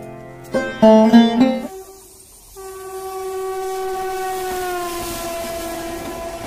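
At Bally railway station a train sounds its horn in a few loud blasts, then a long sustained horn tone holds steady while the train rumbles nearby.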